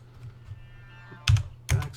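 Computer keyboard keys typed for a guild chat message in Ultima Online Forever, heard as two quick, close clusters of clicking keystrokes with no talking.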